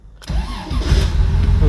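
A Porsche 911E engine cranks and fires after adjustments, catching within a second and settling into a rough, loud idle up close, with a voice speaking over it.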